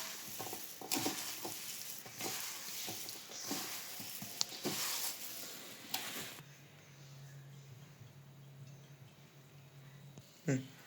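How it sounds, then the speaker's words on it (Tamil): Soya chunks for soya Manchurian deep-fry in hot oil with a loud, steady, close sizzle and some stirring for about six seconds, then the frying settles to a quieter, softer hiss. "சோயாவை எண்ணெயில் போட்டு பொரிச்சு எடுத்துக்கலாம்"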